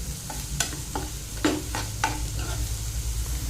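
Onions frying in oil in a home kitchen pan, a steady soft sizzle with a few sharp scraping stir strokes spaced through the clip, close and moderately quiet, with no talking.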